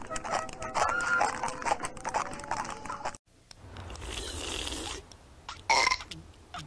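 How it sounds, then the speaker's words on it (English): Cartoon children in an early Simpsons short hold a burping contest, trading several loud, close belches, the first run choppy and rapid, then a pause and a longer, deeper burp followed by one sharp final one. "We're having a burp contest, Mom."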